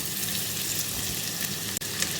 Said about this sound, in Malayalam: അപ്പോൾ ഇതൊന്ന് സോഫ്റ്റ് ആവുന്നത് വരെ നമുക്കൊന്ന് വഴറ്റി കൊടുക്കാം.